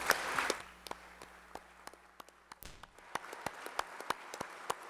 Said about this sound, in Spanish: Honremos a Jacinto con un aplauso por su vida y por su ejemplo.